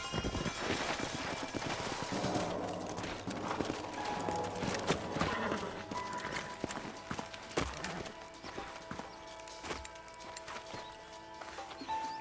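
Horses clip-clop in the Western video game Red Dead Redemption, steady hoofbeats running through a busy, full soundscape with music and effects, ending as the riders prepare to stop near an old house.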